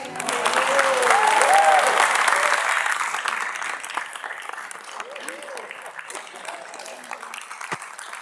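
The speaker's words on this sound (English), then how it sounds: "We just saved the applause for after." Audience applause at a special town council meeting in Innisfil, loud at first and then thinning out as scattered clapping continues while voices speak over it.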